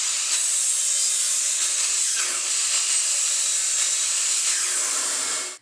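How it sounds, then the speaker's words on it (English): A miter saw squares off the ends of wooden boards for a shipping crate, a loud, steady high-pitched whine and hiss that holds for several seconds, then cuts off abruptly. "we're just going to come here to the miter saw and square off one end"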